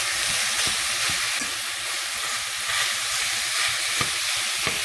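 Ground meat for taco salad browns in a hot pan with a steady, close frying sizzle: dense broadband crackle and hiss running continuously, with occasional sharper pops and faint stirring scrapes, no talking.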